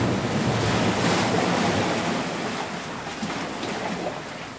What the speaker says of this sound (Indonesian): Karena di sana sudah laut.